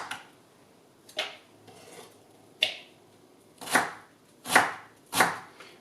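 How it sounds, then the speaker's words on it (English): A knife chops red cabbage into strips on a board in a slow series of crisp, sharp cuts, close by, getting heavier toward the end, with no talking. "I'm just chopping this up into little strips."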